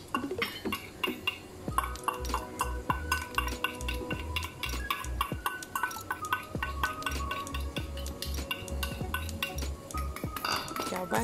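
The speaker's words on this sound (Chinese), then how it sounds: "搅拌均匀" Two beaten eggs with chopped dried shrimp are whisked in a small bowl with a utensil, making quick, steady clinks and scrapes against the side in a close, continuous rhythm, with no talking.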